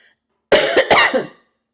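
One person coughs a few times in quick succession, close and loud, with silence before and after.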